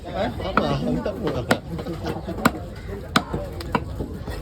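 A Kal koduva fish being chopped into pieces at a Kasimedu fish-cutting stall, with repeated sharp knife thwacks on a board at an uneven pace beneath ongoing chatter.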